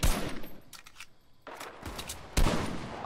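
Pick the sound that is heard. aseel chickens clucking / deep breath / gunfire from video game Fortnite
gunfire from video game Fortnite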